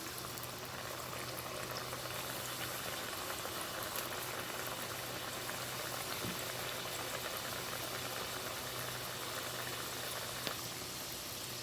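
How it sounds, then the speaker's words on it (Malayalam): Unnakkaya, Malabar stuffed plantain rolls, bubble as they deep-fry in hot oil, giving a continuous, even hiss and crackle with no voices. "ബാക്കിയുള്ള ഉന്നക്കായും എണ്ണയിൽ ചേർത്ത് നമുക്ക് ഫ്രൈ ചെയ്തെടുക്കാം."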